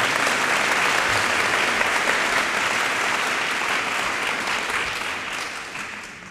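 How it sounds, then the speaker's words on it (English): Audience applauding the Sacramento mayor at a public gathering, a thick continuous wash of many hands clapping, loud at first and gradually tapering off toward the end. "give your mayor a round of applause"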